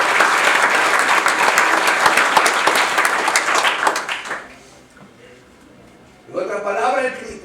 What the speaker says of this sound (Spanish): ¿cuánto podemos darle una ofrenda de aplauso a Él,